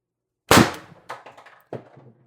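Three sharp CO2 air rifle shots from an Umarex TR50 fitted with a tuning barrel extension and a 90 gram CO2 cartridge, the first loudest, each a crisp crack with a short decaying tail, spaced roughly half a second apart.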